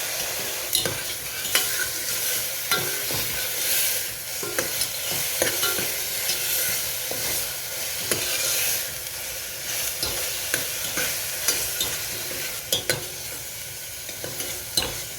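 Onion paste frying in a pan for chole, a constant sizzle broken by frequent scraping and clacking strokes of a spoon stirring it.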